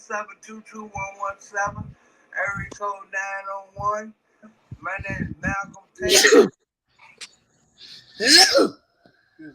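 Two loud, sharp sneezes burst out close to the mic a couple of seconds apart, following a stretch of a young person speaking.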